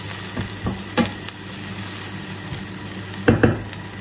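Sliced onions softening in a frying pan give off a low, steady sizzle, punctuated by a few soft utensil knocks and clinks near the start and again toward the end.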